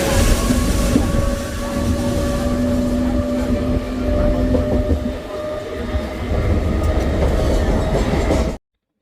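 A train runs past a Mumbai railway station platform with a loud, steady rumble and rhythmic wheel clatter before the sound cuts off abruptly.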